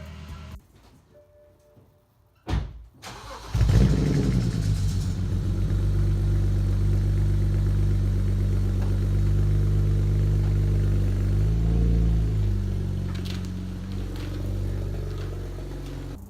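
A BMW E92 335i car engine starts with a short crank, then settles into a steady, close, low rumbling idle, with a slight change in pitch partway through.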